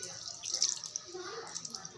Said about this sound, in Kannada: ಸ್ವಲ್ಪ ನೀರು ಹಾಕ್ತಾಯಿದ್ದೀನಿ.